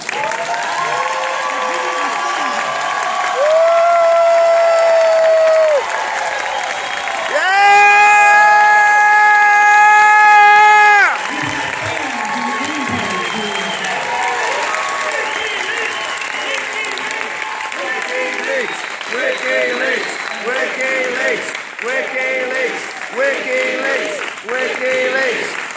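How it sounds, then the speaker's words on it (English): Audience at the Green Party National Convention applauding, a broad continuous clatter of clapping under long sustained tones and a talking voice. "You can applaud now."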